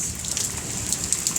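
Rain falling during a thunderstorm in Spain makes a steady, close hiss, with scattered drops pattering on a surface and no voices.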